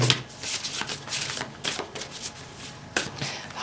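Oracle cards being shuffled during a tarot and astrology reading, with soft repeated papery riffles and rubs, a few sharper bursts spaced across a short stretch, fairly quiet and close with no talking.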